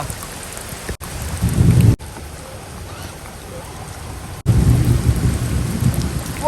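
Deep rumbling thunder rolls in heavy bursts over steady rain, with brief sharp cutoffs between the rumbles.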